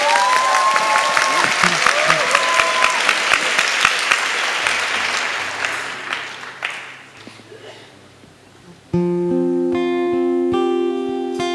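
An audience in a church youth worship service claps in a burst of applause that thins out over several seconds. Then sustained keyboard or organ chords begin, with a voice speaking briefly.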